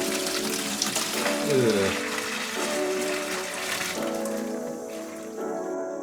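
Old coolant drains steadily from the radiator lines of a mini trophy truck, a continuous near splashing trickle that runs throughout. A person grunts briefly partway through.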